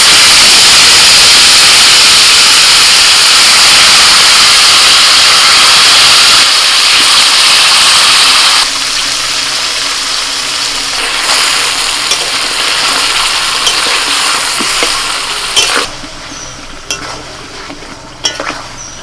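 Potatoes go into hot spiced oil and sizzle loudly, a strong continuous frying hiss that eases as the pan is stirred, with scraping and clinks of a spoon toward the end.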